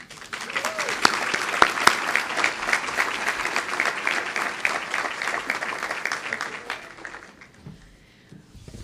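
An audience at the 2011 ATHENA Awards applauds steadily to welcome a speaker to the stage, a dense, sustained clapping that fades out over about eight seconds.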